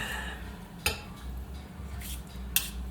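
A spoon stirs an ingredient into a breakfast bowl, with a low steady scraping broken by two sharp clinks against the dish.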